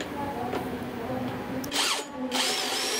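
A power drill bores at an angle into wood for a wood joint, a whining motor under steady grinding that rises into two short louder bursts near the end.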